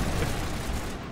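Sniper rifle gunfire in the Mass Effect video game, a dense, loud burst of blasting that fills the whole short moment with no pause.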